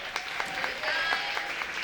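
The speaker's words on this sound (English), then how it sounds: "Give it one more round of applause." Enthusiastic audience applause at the close of a music-industry career panel event, a dense stretch of clapping with a few sharper bursts, steady and fairly close throughout.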